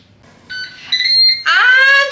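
A Ninja Speedi cooker finishing a grill-setting cook of bacon-wrapped asparagus sounds a series of loud electronic beeps, a few sustained tones in steps that end in a brighter rising chime, close and with no talk.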